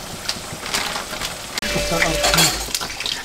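Asafoetida hits hot oil in a pan for kadhi and crackles into a continuous bright sizzle, which swells louder after a brief knock midway, with faint utensil clinks.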